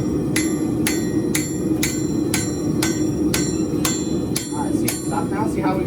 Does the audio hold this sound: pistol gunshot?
no